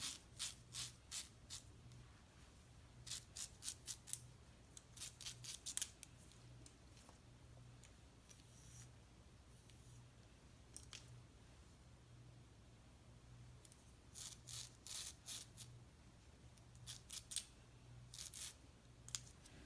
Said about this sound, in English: And then with the last section, I'm just gonna comb it down to about where I left off. And then cut.